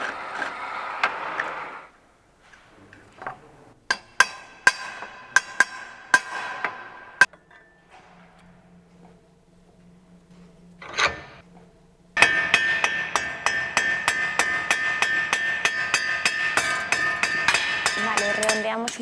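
Small metal plates on a handmade wooden ski binding are drilled and then riveted, with a series of sharp taps, a brief whirring drill, and a closing run of rapid, loud hammer strikes.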